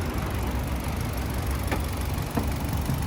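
A 2018 Hyundai Solaris with a 1.6 engine and automatic transmission idles with the hood open, a low, steady hum with a faint rhythmic knock and a couple of light clicks.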